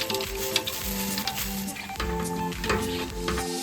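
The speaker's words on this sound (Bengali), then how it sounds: "কাজু বাদামগুলো এবার ভেজে নেব, কিন্তু কাজু বাদাম খুব তাড়াতাড়ি পুড়ে যায় বলে এটা জাস্ট তেলের মধ্যে দিয়েই আমরা তুলে নেব" Cashew nuts fry in hot oil with a steady, moderate sizzle and faint crackles, joined now and then by clinks of a utensil against the pan, with no talking.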